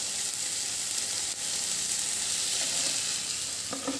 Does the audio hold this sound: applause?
no